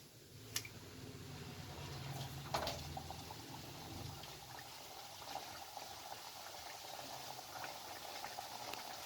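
Mithdu, a Himachali sweet dish, fries in hot oil with a steady, faint, low bubbling sizzle throughout, broken by a couple of brief sharp clinks near the start.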